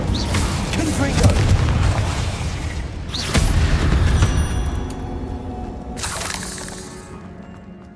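Confringo spell blasts in the video game Hogwarts Legacy burst out as several heavy booming explosions with crackling, shattering debris, one right after another, and a final sharp bang closes the sequence.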